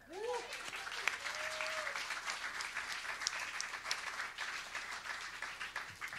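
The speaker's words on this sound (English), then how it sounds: "take another opportunity to applaud the wonderful producer that helped us on this record" An audience at a folk and traditional music awards showcase applauds a nominated producer, giving sustained, even clapping for several seconds with a few brief whoops near the start.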